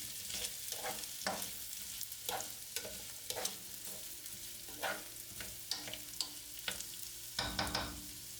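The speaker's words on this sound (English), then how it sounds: "Add the vegetables to the mix and saute them for a few minutes." Vegetables sautéing for a ragù meat sauce in a pan, with a steady low sizzle broken by repeated scraping stirs at an uneven rhythm, close and fairly quiet, and no voices.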